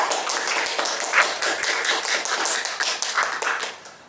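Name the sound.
applause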